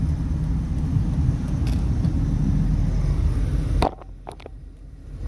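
A Ferrari drives by on a busy downtown Las Vegas street on a Saturday night, a deep rumbling engine close and steady for a few seconds before dropping off sharply to quieter street ambience.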